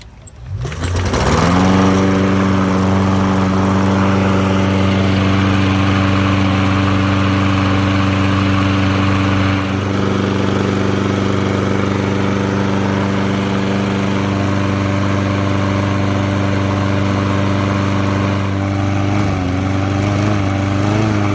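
A Toro lawn mower engine starts after a short pull and settles into a steady, loud, buzzing run that holds for about twenty seconds with only slight changes in pitch.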